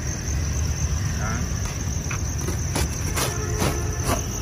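Thai field crickets kept in crates on a cricket farm chirp in a dense, continuous high-pitched buzz that fills the background, with someone talking in Vietnamese over it.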